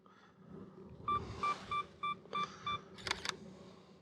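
A Sony camera runs through a series of about six evenly spaced electronic beeps and clicks, close and fairly quiet, followed by a quick burst of shutter clatter near the end.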